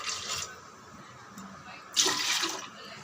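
Water splashes in two short pours into a vessel for cooking pongal with milk and rice, the second burst louder and closer.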